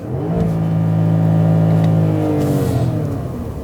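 A Porsche Panamera Turbo S, parked, revs its engine during a launch mode attempt: a loud, steady, close engine roar that climbs slightly in pitch, then eases off near the end.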